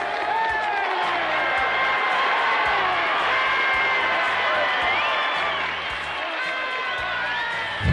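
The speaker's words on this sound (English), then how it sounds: "I'd love to have seen that crowd as they cheered" A large crowd roars and cheers at the close of Martin Luther King's speech, with whoops and shouts over a dense, continuous wall of applause that holds steady throughout.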